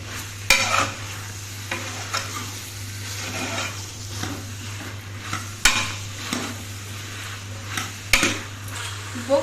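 Vegetables sautéing in a pan, a soft continuous sizzle broken by frequent clinks and scrapes of a spoon stirring against metal, close and alone with no talk.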